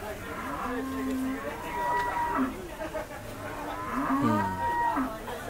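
A Bangladeshi water buffalo lows at the Gabtoli livestock market, two long drawn-out moos close by, with people talking around it amid busy market noise.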